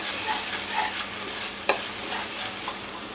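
Onions frying in a pan for an egg and ridge gourd curry, giving a steady close sizzle with a sharp clink of a utensil partway through, and no voices.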